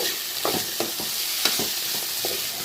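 Wild bitter gourd, carrot and potato sizzle in a hot pan under a loud, constant hiss, with repeated scraping strokes of a spoon as the vegetables are stirred.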